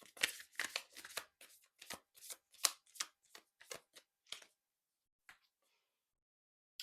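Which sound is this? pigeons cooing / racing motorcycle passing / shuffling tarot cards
shuffling tarot cards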